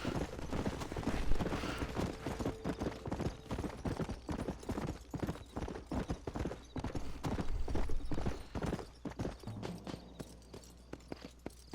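Horse hooves clip-clop in a steady galloping rhythm throughout, with a faint whinny and no talking, from the video game Red Dead Redemption.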